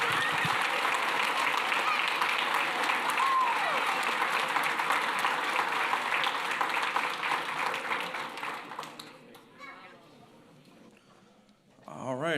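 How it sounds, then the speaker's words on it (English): A round of applause fills a committee meeting room for four baseball teams, dense, steady clapping that tails off and fades away near the end, with brief voices in the background. "let's give one more big loud round of applause for all 4 teams."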